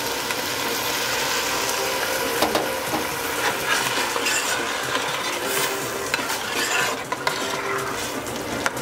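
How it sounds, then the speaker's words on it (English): Pineapple juice poured into a hot pan for a tropical yellowtail snapper dish, with a loud, continuous close sizzle and bubbling that holds steady throughout, mixed with occasional stirring clinks. "we are going to add 1 cup of pineapple juice."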